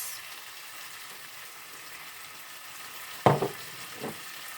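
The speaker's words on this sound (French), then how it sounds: "je vais faire revenir tout ça avec une pincée d'herbe de Provence" Chicken and mushroom crêpe filling sautéing in a pan with herbes de Provence: a soft, steady sizzle runs throughout, with a couple of sharper stirring scrapes near the end and no talking.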